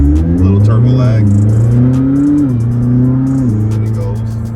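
A McLaren 600LT's turbocharged engine pulls hard from inside the cabin, a steady loud drone that rises and dips in pitch as it accelerates, with brief rattles and clicks on top.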